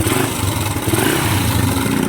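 A faulty vehicle engine with a manual transmission runs noisily, a loud close rough idle with a fast, uneven throbbing pulse and no talk over it.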